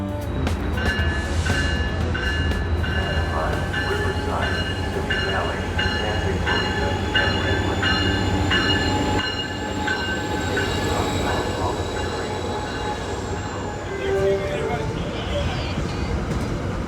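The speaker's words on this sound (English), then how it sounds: "Charger 2119 would lead the consist on Pacific Surfliner Train 580, a southbound train bound for San Diego." An Amtrak Pacific Surfliner passenger train led by a Charger locomotive rumbles past close by, wheels clattering with occasional high metallic squeals over a steady loud roar.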